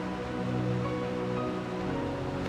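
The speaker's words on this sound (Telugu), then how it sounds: "ప్రవాహ జలములు ఎలా పారుతున్నాయో మీరు చూస్తున్నారు." Stream water flows past in an outdoor field setting as a steady, even rush of moderate loudness. The sound holds unbroken for the whole short stretch, with no voices.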